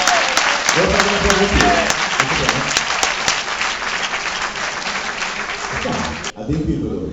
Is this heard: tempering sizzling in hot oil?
no